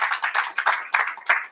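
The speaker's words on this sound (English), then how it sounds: "Can we get a quick round of applause and appreciation for Ajit Pai here?" Brief scattered clapping from a small audience at an Ask Me Anything event with Ajit Pai, a few uneven bursts of hand claps rising and fading, fairly close, with no talk over it.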